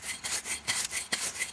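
Carving knife shaving locust wood in a quick run of soft, rasping strokes, close and fairly quiet with no talk.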